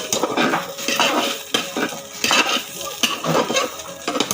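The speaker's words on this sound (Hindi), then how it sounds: "अब मैं इसे ज़रा हिला रही हूँ, आई मीन मिक्स करूँ शेंगदाना फूट पोटैटोस में।" A spoon stirs peanuts into potatoes in a pan with steady scraping and clinking strokes, repeating roughly every second. The sound is close and loud, with a faint sizzle under it and no talking.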